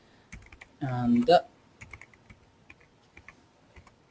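Rapid keystrokes on a computer keyboard as connection details and an IP address are entered into GIS server software, soft scattered clicks close by, with a brief burst of speech early on.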